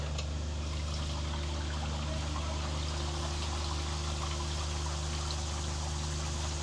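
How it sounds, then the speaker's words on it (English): RV black tank emptying through a sewer hose, a constant rushing, trickling flow of liquid with a steady low hum underneath, continuous and close. "Let me pull this black tank now, and we can watch it flow."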